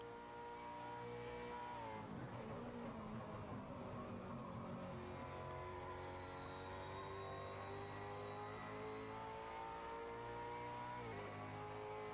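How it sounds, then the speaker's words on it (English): Massive V8 supercar engines in a racing video game set at Bathurst hold a sustained, steady drone that shifts pitch as revs sweep up and down, with a brief drop and recovery near a downshift and throttle blip, no talk. "brilliant sound of those massive V8 engines. Every downshift accompanied with a nice little blip of throttle"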